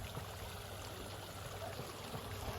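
Water flowing steadily in a resort jacuzzi, a soft continuous trickle and gurgle close by, even in level throughout with no talk over it.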